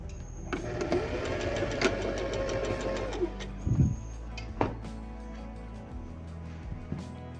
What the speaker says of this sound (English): I'm just going to run a stitch back here so that we can close up this